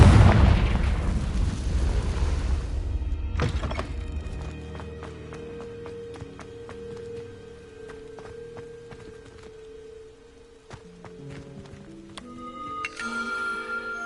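The Confringo explosion spell in the video game Hogwarts Legacy detonates in a loud, rumbling blast that fades over a few seconds into quiet chiming, tonal game ambience.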